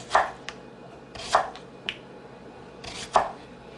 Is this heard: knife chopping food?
yes